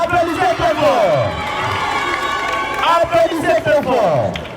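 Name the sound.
students applauding and cheering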